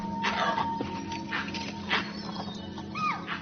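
Wild animals give alarm calls in the misty Kabini forest as wild dogs approach: several sharp, scattered calls at a moderate distance, with a rising chirp near the end.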